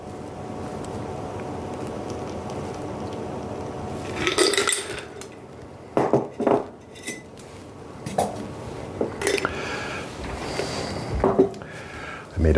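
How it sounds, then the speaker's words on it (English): A cocktail double strained through a metal strainer and a fine mesh strainer, clinks and rattles of metal and glass with splashy pouring bursts, close, with occasional talk. "we are going to double strain, so we got a strainer in here and then a little mesh strainer"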